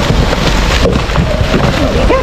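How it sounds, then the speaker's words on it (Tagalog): Heavy rain pouring down outdoors in Spain, a loud dense hiss of drops hitting surfaces without pause, with faint voices under it. "Lakas na ng ulan."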